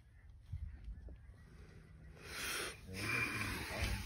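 Faint, distant goose honks from geese in flight carry across an open corn stubble field, growing a little louder toward the end amid wind and rustling.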